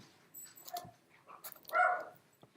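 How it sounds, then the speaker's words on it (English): A dog whimpers indoors in a few short, thin whines and yelps, close and moderately loud, with quiet gaps between them. "I have 4 dogs in my house right now"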